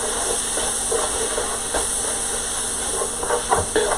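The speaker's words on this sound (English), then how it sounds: "it's sizzling away, I hear it" Steady hissing sizzle of meat in a hot heavy-duty wok, broadband and continuous, with a few brief crackles and pops toward the end; no voices.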